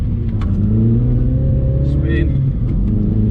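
A Mini John Cooper Works in sport mode gives a steady, loud engine drone that builds as it accelerates, with a continuous rumbling note throughout.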